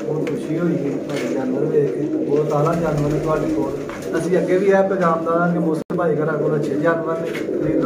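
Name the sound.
pigeons cooing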